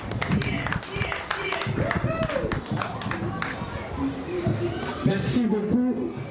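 A school audience at an end-of-year results ceremony in Kalemie claps for the pedagogical adviser. Scattered hand claps sound close, mixed with crowd chatter and a voice talking over them.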